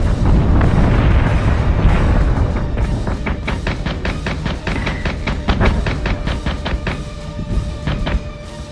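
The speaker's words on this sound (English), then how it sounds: "We're taking sustained fire." Sustained weapons fire in the Battlestar Galactica Deadlock space combat game: loud, continuous booming barrage that gives way to a rapid string of sharp repeated shots, with no speech over it.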